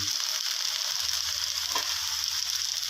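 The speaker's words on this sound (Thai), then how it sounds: "ก็ผัดตามไปเรื่อย ๆ นะครับ" Mixed vegetables including carrot are stir-fried in a pan, giving a steady, even sizzling hiss throughout with a faint clink of stirring and no voices.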